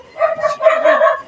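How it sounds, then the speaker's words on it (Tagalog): Several dogs barking in short overlapping yaps and bow-wows, loud and close, with no talk over them. "Ang ingay po ng mga aso"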